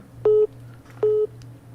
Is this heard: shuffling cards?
no